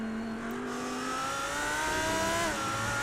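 A red TCR touring race car's engine in a sim-racing 24-hour endurance event at Zolder, a steady, sustained drone that climbs in pitch as it revs, briefly dips at a gear change, then carries on close and loud.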